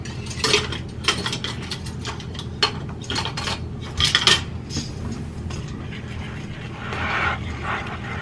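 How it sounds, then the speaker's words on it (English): Close, fast scraping clinks come from a whisk stirring spices in a bowl for Moroccan chicken, with a few sharper taps against the side and a steady low background hum. "I'm going to whisk this all together."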